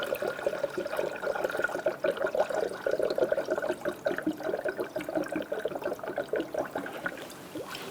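Coolant poured into the radiator of a 2012-2017 Hyundai Accent, a steady close trickling and gurgling liquid stream running continuously with slight bubbling fluctuations throughout.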